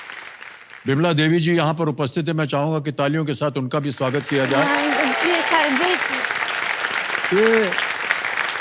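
Studio audience applause on a televised Hindi quiz show set (Kaun Banega Crorepati), a broad steady wash of clapping filling most of the clip beneath a host's voice speaking over it.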